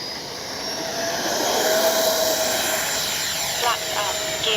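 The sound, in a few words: FMS Avanti V3 70mm EDF RC jet taking off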